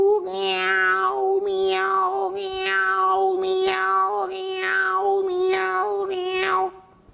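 A voice imitates a cat, producing about six drawn-out meows in a row with a steady drone humming beneath.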